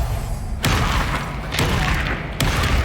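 Bombarda spell explosions in Hogwarts Legacy, three heavy booming blasts spaced about a second apart, each a loud broadband thump with a rumbling tail.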